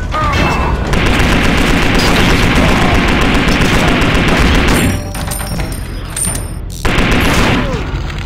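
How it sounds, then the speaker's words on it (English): Rapid gunfire in the Wii shooter Red Steel 2, a dense sustained barrage of loud shots with mechanical clatter, breaking off briefly twice before resuming, with no speech. "Those spiteful last few shots"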